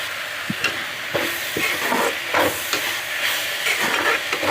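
Vegetables frying in a pan for Kerala-style green peas kurma, with a steady close sizzle broken by occasional sharper crackles and stirring scrapes, no talking.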